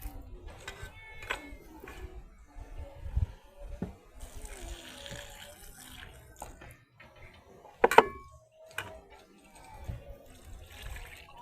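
Water sloshes and splashes as bananas are rinsed by hand in a basin of dirty water, with intermittent clunks and a sharper knock near the middle.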